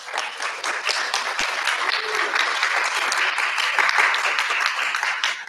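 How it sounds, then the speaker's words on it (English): An audience claps for a tech founders panel at a 1 Million Cups Little Rock meeting, a dense, lively round of applause from a room-sized crowd lasting several seconds. "Let's give them a round of applause."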